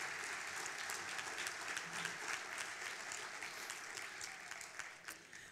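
Sustained applause from an audience at a neighborhood awards ceremony in Fort Worth, a steady wash of clapping that holds for several seconds with no voices over it.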